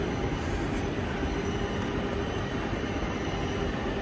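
A regional train bound for Regensburg, pushed by a Siemens locomotive, gives off a continuous low rumble of rail noise at a station. The sound stays loud and steady throughout, with no talk.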